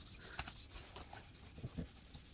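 Quiet, rhythmic rubbing of 2000-grit sandpaper wet sanding paint on a guitar body, short scratchy strokes repeating close by.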